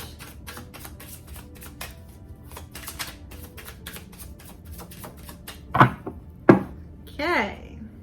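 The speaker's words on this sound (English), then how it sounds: "2 more shuffles and then a split." Rapid papery riffling of tarot cards being shuffled, a quick run of crisp taps, followed by a few louder slaps and a brief voice near the end.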